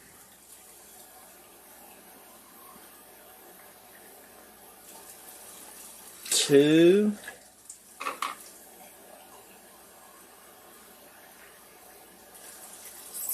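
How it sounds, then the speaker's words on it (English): A short gush of water poured into a cooking blender, lasting about a second, followed by a smaller splash; quiet room otherwise. "what I'm going to do is I'm going to put 3 cups of water."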